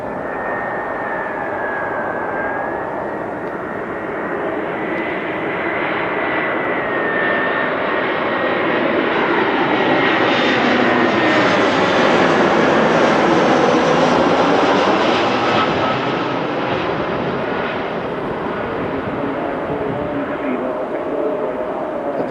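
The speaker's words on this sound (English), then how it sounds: "landing on runway 26, the short runway over there" A jet airliner comes in to land on runway 26, the short runway at Philadelphia airport, its engine roar swelling from a distance to a loud, broad rush at its closest before easing away, with faint voices underneath.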